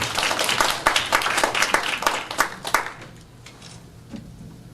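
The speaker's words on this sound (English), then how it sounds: "Give her applause." Audience applause with sharp, distinct hand claps for about three seconds, fading out into quieter room sound with a few scattered claps afterward.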